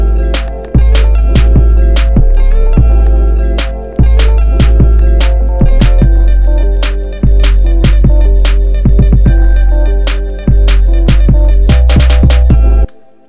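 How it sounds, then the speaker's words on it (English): An Ableton beat built around a snare drum sample, with sharp snare hits cracking over a dense, sustained bassy loop and kick pattern, loud and up front in an electronic arrangement with no voices. "So my snare sounds like this."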